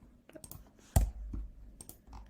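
Keys click on a computer keyboard while typing into a search bar, a short run of close, sharp taps with one louder knock near the middle.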